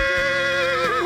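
A Mustang horse at a guest ranch whinnies, a loud, close, wavering high-pitched call with a quavering ending, alone without other sounds.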